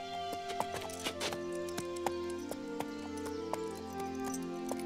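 A horse's hooves clip-clop in an irregular walking rhythm, faint against a sustained musical background.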